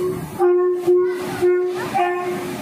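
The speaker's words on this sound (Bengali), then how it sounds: "এটাকে বলে ইঞ্জিন। এটা ট্রেনের সামনে লাগাবে তবে গিয়ে ট্রেনটা টানবে" A train locomotive at a station sounds a loud, tonal horn in several short, repeated blasts close by.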